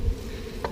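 Honey bees hum around hive frames in a continuous buzz, close by, with a couple of brief knocks or handling sounds near the end.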